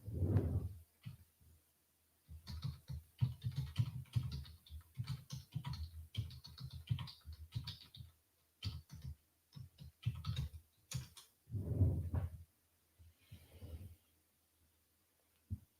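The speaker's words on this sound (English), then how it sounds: "Let me type it." Someone types on a computer keyboard. Close, quick clusters of key clicks come in uneven bursts with brief pauses between them, and no one speaks.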